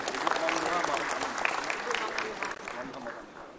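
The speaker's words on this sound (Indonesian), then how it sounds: "Tepuk tangan dulu untuk Gubernur Jambi kita." Audience applause for the Governor of Jambi at a PAN party 25th anniversary gathering: a steady wash of many hands clapping, loud and continuous, with voices talking over it.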